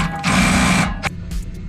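A power tool or impact wrench tightens a 17 mm nut on the lower control arm of a Honda Prelude's rear suspension, one loud close whirring burst of under a second followed by two short clicks.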